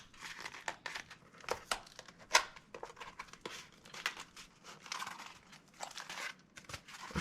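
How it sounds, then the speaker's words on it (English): Tape being wrapped over the edges of a paper dagger scabbard, making close, irregular crinkling and crackling bursts with a few sharper rips, quiet overall with no talking. "As you connect the edges and wrap the tape over."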